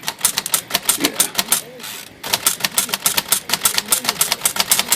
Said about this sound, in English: that's probably the keys jamming up